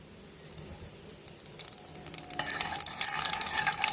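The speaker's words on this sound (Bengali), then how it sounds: "ওই তেলের মধ্যেই দিয়ে দিচ্ছি একটু কালো জিরে" Black cumin seeds sizzle in hot oil for a parshe fish tel jhal gravy, a soft crackling hiss that swells louder and denser halfway through, with light stirring and no voices.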